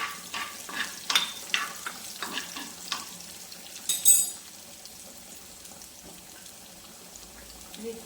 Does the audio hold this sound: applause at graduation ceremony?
no